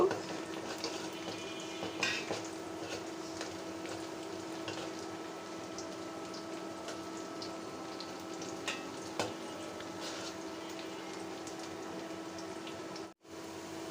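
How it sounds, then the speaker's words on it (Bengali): Onions frying in hot oil in a home kitchen pan, a steady low sizzle running throughout with occasional clinks of a utensil stirring against the pan. "তেল গরম হয়ে গিয়েছে দিয়ে দিচ্ছি পেঁয়াজ পেঁয়াজ নেড়ে চেড়ে গোল্ডেন ব্রাউন করে ভেজে নিব"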